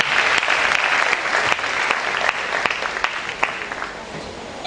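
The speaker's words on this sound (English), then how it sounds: "let's clap our hands together for our digital director" Applause from a crowd at a Nigerian space science and technology event honouring a digital director, steady clapping with sharp individual claps standing out, moderately close and without speech.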